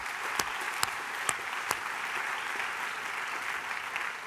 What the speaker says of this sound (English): So why don't we give them a great applause for that